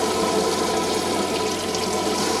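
Water sprays steadily from a pull-out tap doubling as a shower head in a 2019 Swift Escape Compact 402 caravan, a loud, close, continuous hiss with no voices.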